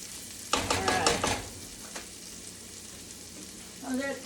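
Fried rice ingredients fry in a pan with a loud burst of sizzling and stirring early on, then settle into a softer steady hiss, with a brief scrape near the end.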